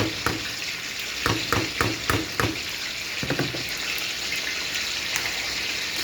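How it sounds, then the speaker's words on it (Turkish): Onions with capia and village peppers fry in a pan while a utensil stirs them, giving a quick run of scraping strokes over a steady sizzle that settles into a softer hiss. "İçerisine biberlerimi atıyorum. Kapya biber, köy biberimi"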